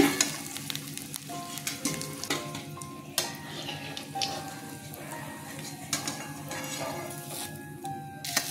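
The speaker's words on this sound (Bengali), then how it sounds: "কড়াই গরম হয়ে গেছে, সর্ষের তেল দিয়ে দিচ্ছি। এবার ধোকাগুলো ছেড়ে দিচ্ছি।" Chana dal dhoka fry in hot mustard oil in a kadai, a steady crackling sizzle broken by repeated metallic clinks and scrapes of stirring.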